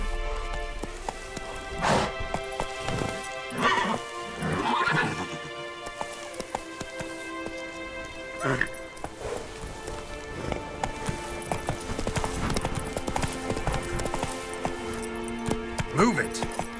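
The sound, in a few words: horse Roach trotting hooves, from video game The Witcher 3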